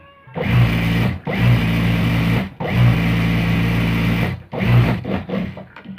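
A sewing machine double-stitches a salwar seam in four quick bursts of close, buzzing motor whir, with brief pauses between runs.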